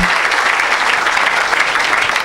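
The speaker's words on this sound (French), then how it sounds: "Acclamons Jésus." A church congregation bursts into loud, dense applause that holds steady for a couple of seconds, close and filling.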